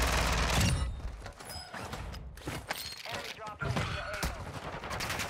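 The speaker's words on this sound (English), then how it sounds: "I'm getting shot both ways." Heavy gunfire in Call of Duty Warzone on Ashika Island, a dense fusillade of rapid shots and bursts that stays loud and close throughout, with a player speaking over it.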